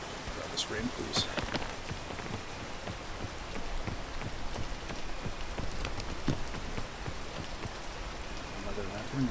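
Rain in the video game PEAK patters steadily on a surface, a continuous soft hiss of drops with scattered sharper ticks and knocks throughout.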